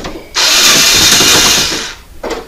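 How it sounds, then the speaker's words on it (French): A power screwdriver whirs loudly for almost two seconds, then gives a brief second burst, removing screws during installation of a Xigmatek Loki 2 CPU cooler. The sound is close and has no talk over it. "Je crois qu'on va dévisser ici, je risque de galérer."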